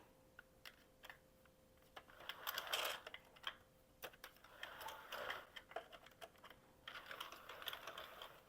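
A Sentro knitting machine running on a thick, distinctly plied yarn makes soft, quiet rapid clicking and ticking in irregular bursts, with a faint steady hum underneath.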